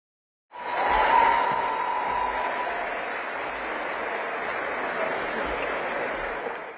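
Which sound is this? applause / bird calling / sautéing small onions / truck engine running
applause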